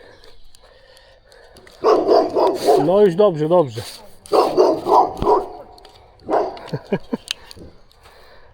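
An agitated dog at a sandy playground lets out a few sharp barks and a long wavering growl-yelp, close and loud, while someone talks and laughs between the outbursts.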